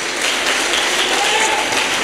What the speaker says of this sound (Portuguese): aplauda mais forte em nome de Jesus